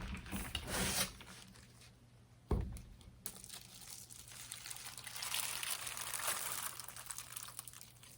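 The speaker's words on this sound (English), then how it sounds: "we're going to go ahead and pour this soap in" Cold process soap batter, tinted a chartreuse green, pours into a mold with a faint trickling, crinkly sound, a sharp knock partway through, then soft continuous pouring noise, quiet and close.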